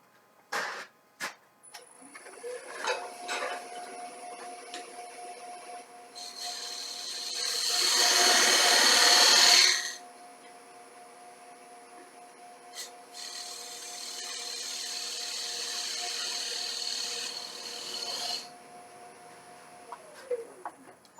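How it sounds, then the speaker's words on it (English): A spindle gouge cuts a tenon on a wood bowl spinning on a lathe, bevel rubbing, in two sustained scraping passes over the lathe's steady motor hum, with a few knocks at the start. "So I always do the tenons with the spindle gouge"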